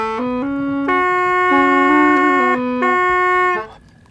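A cheap hulusi, the Chinese gourd flute, plays a short reedy melody over its steady drone note, sounding somewhat harsh and buzzy, close and alone before the tone fades out.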